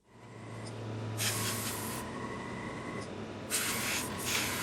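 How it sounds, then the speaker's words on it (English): An airbrush spraying paint onto a model plate girder bridge inside a paint booth makes soft, steady hissing bursts over a low background whirr, close and fairly quiet, with no speech. "Here's some of the airbrushing of the plate girder bridge."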